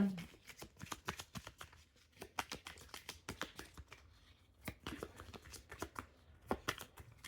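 Tarot cards shuffled and drawn by hand, a close, quiet, rapid run of crisp flicking and riffling snaps with short pauses between bursts.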